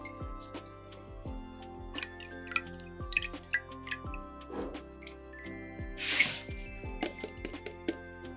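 Water drains from freshly washed rice in a pot, dripping and trickling in small irregular splashes, close and quiet, with faint clinks and a brief spray of running water partway through.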